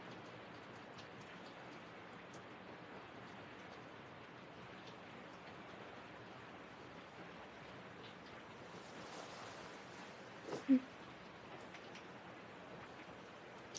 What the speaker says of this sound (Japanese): 雨降り始めたね。